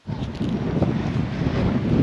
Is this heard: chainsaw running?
no